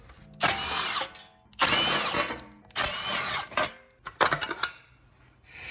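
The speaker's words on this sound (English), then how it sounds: "For the dust shield, I'll be using a 10mm socket to remove these 3 bolts securing in place" Three bursts of a power ratchet or impact tool spinning a 10mm socket to back out dust shield bolts on a steering knuckle, each whir loud and close, followed by a choppier rattling burst.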